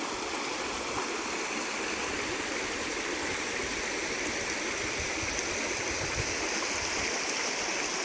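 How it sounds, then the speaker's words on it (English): Mountain creek in a canyon below a reservoir, rushing water flowing steadily at close range, a constant broad hiss and gurgle with no voices. "And then here's the main creek."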